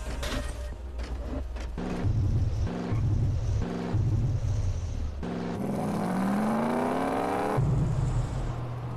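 A car engine in GTA San Andreas revving hard, rising and falling in pitch through several throttle bursts and a long climbing acceleration, loud and close.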